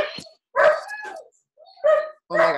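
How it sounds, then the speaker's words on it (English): A dog in a kennel barks excitedly in short, loud, close bursts with yelping, high-pitched cries between brief silences. "my dog is going crazy"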